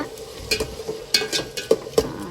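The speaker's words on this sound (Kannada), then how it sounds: "ಈ ಕಡೆ ಒಗ್ಗರಣೆ ಕೊಡತ್ತೀನಿ" Spice tempering sizzles in hot oil in a pan while a spoon stirs it, giving a continuous hiss broken by several sharp scraping clinks at an uneven pace, close and without speech.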